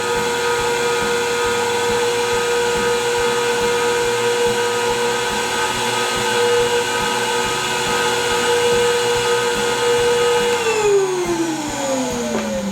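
A record cleaning vacuum runs over a vinyl record with a loud, steady motor whine and airy suction roar that continues throughout, then its pitch slides downward near the end as it winds down.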